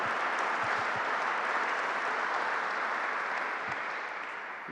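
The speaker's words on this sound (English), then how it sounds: "Let's give her a big round of applause for her leadership." Sustained, dense applause from an audience at a governor's groundbreaking ceremony in Rochester, steady and loud throughout, then easing slightly toward the end, with no speech.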